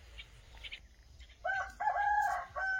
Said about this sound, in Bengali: ওদের মোরগটা সাড়া দিচ্ছে